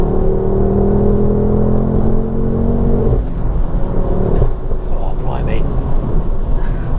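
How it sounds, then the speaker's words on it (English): A Ford Focus RS engine holds a high revving drone, then drops off the throttle into a rumbling, burbling idle with road noise. "the sound off the throttle is so nice"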